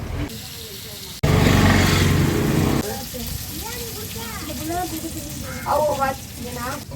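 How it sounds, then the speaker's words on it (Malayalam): A loud sizzle of fish frying in hot oil bursts in for a couple of seconds, then fades into quieter sizzling under people talking nearby. "നമ്മുടെ മീൻ ഫ്രൈ ഒക്കെ റെഡിയായി"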